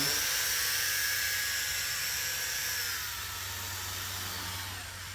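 A small consumer drone found by a roadside whirs steadily with high-pitched propeller whine, loud and close at first, then dipping slightly in pitch and fading a little toward the end; no voices.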